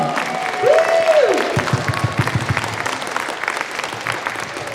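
A round of applause for speaker Nigel Thorn at an outdoor gathering on the Senedd steps: a whoop rings out first, then steady crowd clapping that gradually thins.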